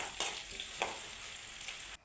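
Three green chillies hit hot oil in a pan with ginger and mango for a mango pickle, giving a steady, close sizzle broken by a few soft stirring scrapes before it cuts off abruptly.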